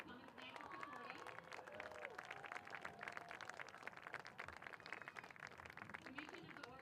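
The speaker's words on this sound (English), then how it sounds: "If we could all give them a round of applause for coming tonight to support us." Crowd applause at a girls' lacrosse game, Oregon vs DeForest: steady, dense clapping from a gathered crowd, continuous throughout, with a voice carrying over it.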